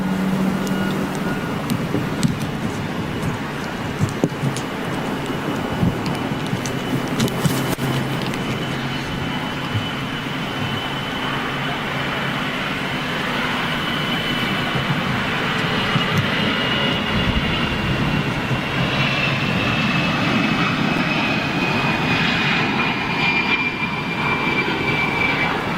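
Etihad airliner jet engines spooling up at startup, a loud broadband roar with a rising whine that climbs and holds steady for the whole stretch, no talk over it.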